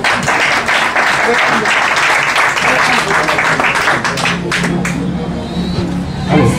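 Loud, sustained audience applause fills a fan club launch ceremony, with a crowd clapping continuously throughout and voices mixed into the din.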